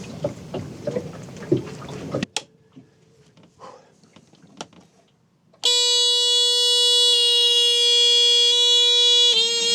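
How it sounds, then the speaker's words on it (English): A Volvo Penta MDI boat engine's steady, loud low oil pressure alarm tone sounds continuously for the last several seconds, following a stretch of quieter rumbling and a few sharp knocks. "The alarm came on, which signified a low pressure situation until the engine came on."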